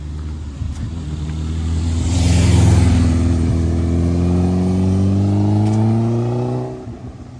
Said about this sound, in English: Sounds like a motorbike to me.